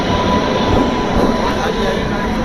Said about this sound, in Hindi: तो टनकपुर दुरई एक्सप्रेस आ चुकी है बरेली जंक्शन के प्लेटफॉर्म नंबर 5 पर अपने बिल्कुल सही समय पर।